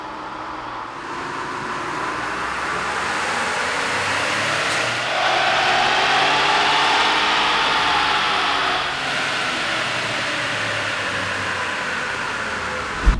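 A 2021 Ford Bronco with the 2.7L engine running a dyno pull on a Ford Performance calibration, a steady loud engine drone that rises in pitch and swells midway before easing back, with no talking.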